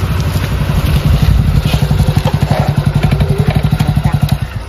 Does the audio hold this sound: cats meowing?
no